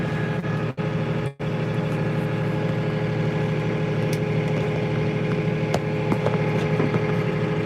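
A corn-planting farm tractor with about 766 engine hours runs with a steady, close drone from start to finish, heard from the cab, with no talking.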